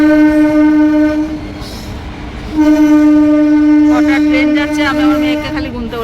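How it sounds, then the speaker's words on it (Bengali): A goods train rolls past close by, its horn holding a long, loud tone that drops off briefly and then sounds again, while wheels and wagons rumble underneath throughout. "এটা বোধহয় মালগাড়ি আসছে"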